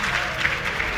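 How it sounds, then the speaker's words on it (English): A crowd at a live game developer demo session at the Rezzed 2013 event, cheering and clapping in a dense, continuous wash of applause that fills the short moment. "Can we get a cheer for a start battle, please?"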